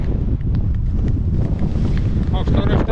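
Strong wind on an open fell top in the Paistunturi wilderness, Finnish Lapland roars steadily against the microphone, a constant buffeting rush throughout.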